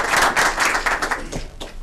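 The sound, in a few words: audience round of applause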